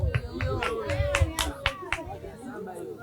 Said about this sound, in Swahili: Makofi.